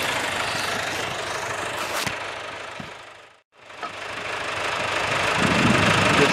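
A hot saw engine runs loud and steady at close range. The drone dips briefly to near silence about halfway through, then climbs back to full roar.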